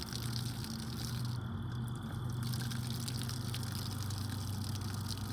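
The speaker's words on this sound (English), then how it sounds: "I just want to turn on my water" Water runs steadily from an RV shower line during winterizing, with a constant rushing hiss and low hum, unbroken and fairly quiet throughout.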